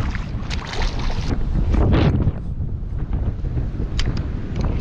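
Strong wind buffets a microphone on a shoreline at low tide on the Great Barrier Reef, a steady low roar with gusts swelling and easing, alone without talk.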